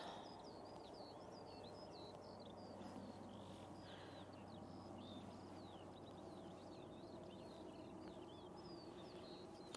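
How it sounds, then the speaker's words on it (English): Small birds chirp and tweet steadily outdoors near a busy airport during a morning plane-spotting session, with a constant low rumble of distant traffic or aircraft underneath. "You're going to hear the birds tweeting up there, don't you?"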